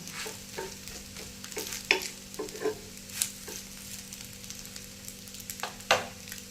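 Maggi tikki frying in oil in a pan, a steady close sizzle with scattered sharp crackles and pops, plus occasional light scraping, with no talk.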